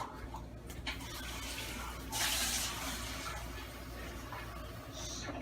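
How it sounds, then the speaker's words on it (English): Water is poured into a pot of spaghetti sauce, a soft continuous splashing fill that swells into a brief brighter rush midway, heard close and fairly quiet. "Add about a half a cup of water to it."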